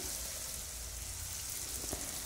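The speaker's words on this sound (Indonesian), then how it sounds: "Kemudian panaskan minyak gunakan api sedang aja. Kita goreng." Cut food pieces frying in hot oil over medium heat, a steady, even sizzle and crackle that runs alone at moderate level with no talk.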